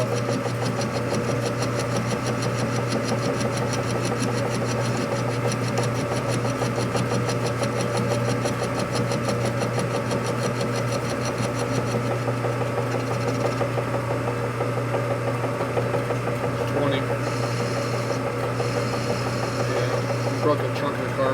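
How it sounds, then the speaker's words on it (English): A metal lathe cuts the thread off a stud for a 2020 M8 motorcycle rocker arm stand bolt repair, making a steady grinding, whirring drone with a constant motor hum that runs unbroken throughout. "We're cutting the thread off."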